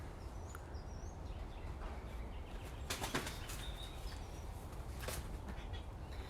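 A red-tailed hawk in rehab flies back and forth, its wingbeats giving several soft whooshing flaps at intervals over faint outdoor background, with no voices.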